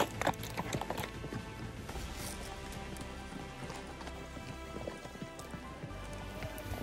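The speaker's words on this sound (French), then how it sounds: "Les chevaux vont naviguer sur la crête pendant des centaines de mètres jusqu'à une forêt" Horses carrying riders along an Alpine mountain ridge clop their hooves in an uneven, faint, close rhythm over a soft ambient background, with no talk.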